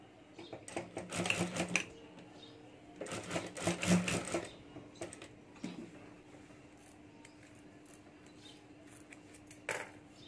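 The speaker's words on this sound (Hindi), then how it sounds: "तो यहाँ मैं सिलाई कर देता हूँ" A sewing machine stitches a potli bag in two short bursts of rapid clattering, followed by quieter handling noise and a brief final tap.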